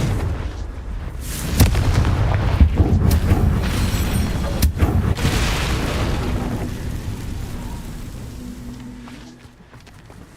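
Bombarda and Confringo spells detonate in Hogwarts Legacy with rolling booms and sharp blasts. Several explosions overlap into a dense, loud rumble that slowly fades out near the end.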